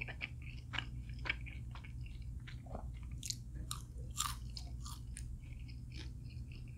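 Crispy Lumpiang Shanghai egg roll, a Filipino dish dipped in sweet and sour sauce and eaten at a restaurant in Las Vegas; quiet, close crunchy bites and chewing repeat irregularly over a low background hum.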